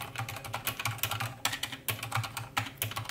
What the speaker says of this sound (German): Das Rush G1 Silent Keyboard ist eine mechanische Gaming-Tastatur, ausgestattet in meinem Fall mit Cherry MX Red Silent Switches.